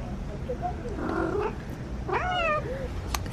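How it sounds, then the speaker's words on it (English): A cat lying on a warm computer gives a couple of drawn-out meows over steady low background noise, close and moderately loud. "Does anybody else have a cat that likes to lay on the computer because it's warm?"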